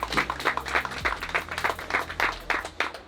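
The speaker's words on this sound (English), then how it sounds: "please applause for the team from Prague" Audience applause for a hookah team from Prague at a shisha battle competition on stage, a steady run of clapping bursts lasting a few seconds with faint voices beneath.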